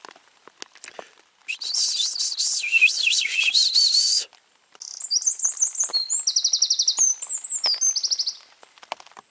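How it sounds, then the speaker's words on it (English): Outdoor birdsong on a summer day: two long bursts of bright, rapid chirping and warbling whistles, loud and close, separated by a short pause and preceded by a few scattered faint clicks. "Did you hear that bird song?"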